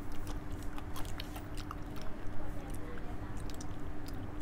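Green caviar sea grapes chewed close to the mic, with continuous wet, squishy bites and soft crunching over a steady background hum.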